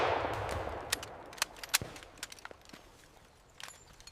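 A colonial-era musket volley opens with a broad rumbling blast that fades, followed by scattered sharp cracks of individual shots, all fairly faint and distant-sounding.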